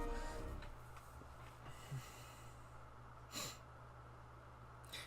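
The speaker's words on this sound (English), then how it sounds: "I'm sorry if you can hear me sniffling. My allergies are being a pain in the butt." Allergy sniffling: a few soft, short nasal sniffs, the clearest one about two-thirds of the way through, close but quiet over a low electronic hum.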